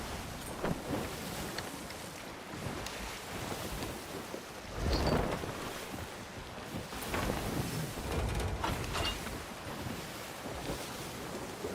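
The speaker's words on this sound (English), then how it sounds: "We've also got wind." Wind gusting across open sea in the pirate game Sea of Thieves, a steady broadband roar with rolling surges and swells of wave wash, fairly loud and continuous with no talking.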